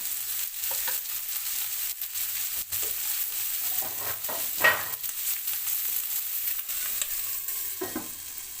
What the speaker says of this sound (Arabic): اذا غنخليو البصله ديالنا تدبل لينا، غادي نغطيوها حتى تشد اللون ديالها